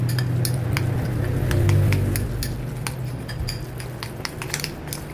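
Ground pork is mixed with cornstarch, sugar and other marinade ingredients in a bowl, with close, busy clinks and scraping of a utensil against the bowl over a low hum.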